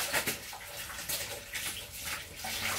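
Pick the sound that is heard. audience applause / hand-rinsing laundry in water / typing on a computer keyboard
hand-rinsing laundry in water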